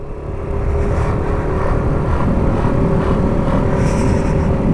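A Yamaha Aerox Alpha scooter rides at low speed onto a race circuit, its engine a steady close drone that swells slightly after a quiet start, with no talking.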